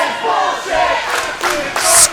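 A crowd at a Warriors of Wrestling event yells and cheers loudly and close at hand, with rising shouts that peak in a brighter burst at the end.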